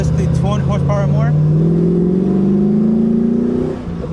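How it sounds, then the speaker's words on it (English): Revving from a Mercedes fitted with a 350-horsepower LS1 V8 swap, a loud rising engine drone that climbs steadily in pitch and holds strong before easing off, with a voice talking over the start. "The engine I'm using is the LS1, so 350 horsepower."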